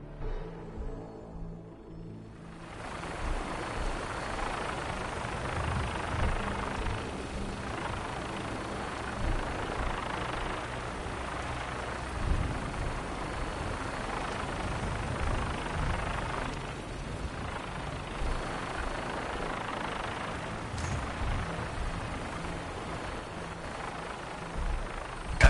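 Aircraft engine from Fallout 4, a steady low rumble and broadband roar that rises after a quiet start and holds for the whole stretch, with faint passing fluctuations.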